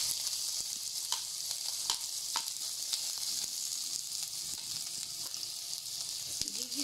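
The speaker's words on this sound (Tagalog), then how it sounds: "Gigisa natin yan." Ginger and onion sauté in a hot pan, giving a steady loud hiss of sizzling oil with occasional soft scrapes and clicks of a spatula, close and continuous, with no speech.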